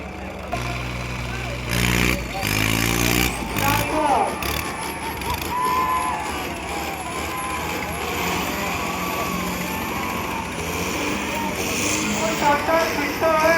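Sonalika RX tractor engines straining in a tractor tug-of-war match against New Holland, a heavy diesel roar with harsh revving and rumble, loud and continuous, with a commentator talking over it throughout.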